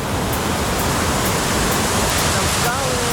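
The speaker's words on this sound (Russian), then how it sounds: "И вот там водопадик." A small waterfall in a jungle gives a steady, loud, broadband rush of falling water that continues without a break for the whole stretch.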